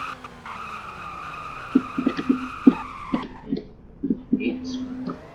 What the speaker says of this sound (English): Let's do a emergency brake.